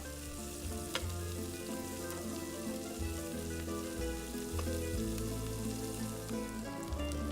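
Vegetables fry in a pan for an end-of-summer Italian dinner, a steady close sizzle running the whole time with occasional soft stirring scrapes and no talking.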